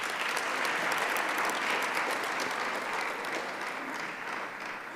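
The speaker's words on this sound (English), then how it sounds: "Another round of applause, please." An audience at a technology launch event for people with disabilities claps in sustained, even applause, moderately loud and tapering slightly toward the end, with no talking.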